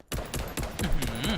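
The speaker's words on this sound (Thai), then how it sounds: "ให้ฟังเสียงปืนก่อนแล้วกัน ให้ฟังเสียงปืนก่อน" A quick burst of M1 Garand rifle shots from the Call of Duty Vanguard game, several loud sharp reports fired in fast succession, close and dominant with no talk over them.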